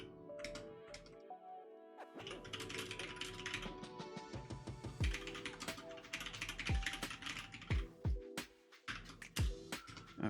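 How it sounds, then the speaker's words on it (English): Rapid clicking of a computer keyboard during a live coding stream, a steady run of key taps that continues for about ten seconds over a constant, tonal background. "just typing a notification"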